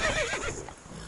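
Roach, the horse in The Witcher 3, gives a short loud whinny that trails off within a second, with faint hoof clatter beneath.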